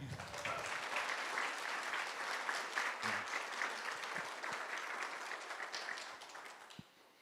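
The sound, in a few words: audience applause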